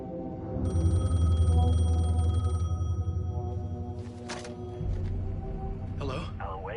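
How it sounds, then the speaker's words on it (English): A telephone rings in the Alan Wake 2 video game, a steady electronic trill lasting a couple of seconds over low ambient drone, followed by clicks and shuffling. "phone was ringing"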